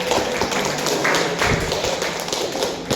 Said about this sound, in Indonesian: Kita berikan aplaus untuk Revi.